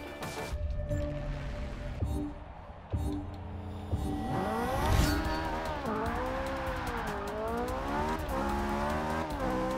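A Ferrari 458 Speciale races around the Spa circuit, its engine loud and continuous, revs climbing and dropping through quick gear changes, with a brief tire squeal, heard up close and without voices.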